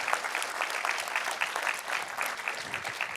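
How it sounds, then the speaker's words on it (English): A debate audience applauds the opposition team with a brisk, even patter of clapping from a modest crowd at moderate volume, with no talk over it. "a huge round of applause for the opposition for putting forward an argument"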